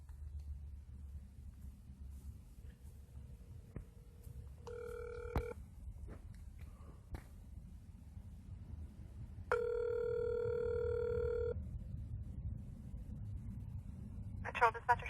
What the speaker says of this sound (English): I'm going to place a call to the State Highway Patrol Barracks up here in Ravenna, Ohio.